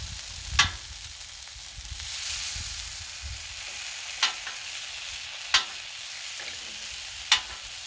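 Beyond Meat Italian sausages fry on a Blackstone griddle with a steady close sizzle, broken by a few sharp metallic scrapes of a spatula spaced a second or two apart.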